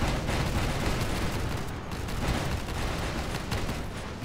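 Continuous heavy gunfire from giant battle robots in the mobile game Battle of Titans, a dense, loud barrage of rapid shots with no pauses.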